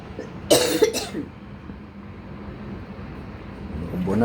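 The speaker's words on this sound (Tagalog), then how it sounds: "Inuubo na, inuubo." A person coughs twice in quick succession, sharp and close, then a quiet background hum with faint outdoor noise follows and slowly rises toward the end.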